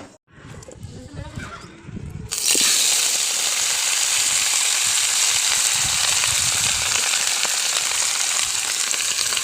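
A loud, steady sizzle of vegetables frying in hot oil starts suddenly and continues without pause, after a quieter stretch of kitchen clatter.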